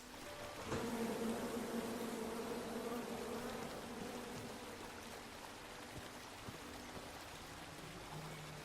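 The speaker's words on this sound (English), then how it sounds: "Come at me, bees!" Angry bees swarm in the King's Quest video game, a steady droning buzz with a watery, rain-like hiss underneath, holding evenly without any talk.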